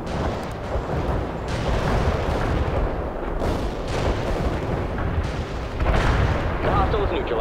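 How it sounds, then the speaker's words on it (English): An artillery barrage in the video game World in Conflict rolls through as dense, continuous rumbling explosions with heavier booms near the end, with voices talking over the din. "Artillery barrage in for full effect"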